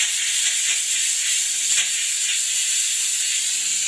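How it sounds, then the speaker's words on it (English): A steam car wash machine blows off residual steam in a steady, loud, close hiss that runs unbroken throughout. "we'll just get rid of some residual steam"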